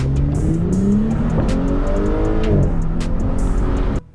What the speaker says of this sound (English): the S5 Sportback's acceleration doesn't disappoint